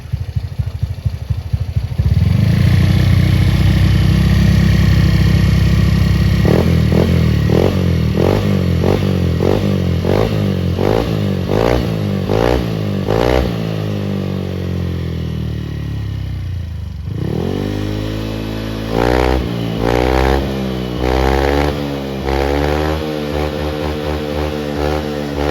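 A Honda Beat scooter with a 120cc bore-up engine and original injector runs close and loud, idling and then revving hard in repeated rising and falling bursts, with mechanical clatter beneath.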